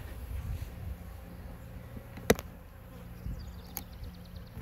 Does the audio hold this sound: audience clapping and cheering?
no